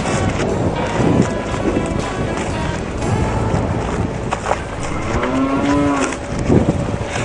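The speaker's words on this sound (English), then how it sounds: "Cattle." A herd of about twenty cattle on the Colorado Trail moos repeatedly, with long, clear calls rising over steady wind noise and open outdoor ambience, and no talking.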